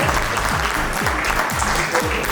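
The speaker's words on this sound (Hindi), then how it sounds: "ताली बजाएं।" An audience at a network-marketing training seminar in India claps together, producing loud, sustained applause that fills the room, with a voice faintly audible underneath.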